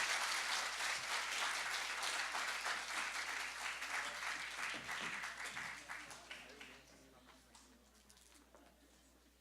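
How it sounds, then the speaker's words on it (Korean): Warm applause from an audience at a forum in the National Assembly, honoring adopted children of large families; dense and steady at first, then thinning and fading over the final seconds. "뜨거운 박수로 축하해 주시면 감사하겠습니다."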